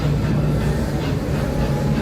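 Busch Gardens Tampa Bay park train rolling along its track, a steady low rumble and hum with faint rhythmic clatter, continuous and fairly loud throughout.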